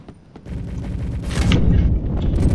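Gunfire and explosions in the shooter video game Recoil, a loud sustained barrage of booming shots and blasts building up after a couple of quieter thumps, dense and close.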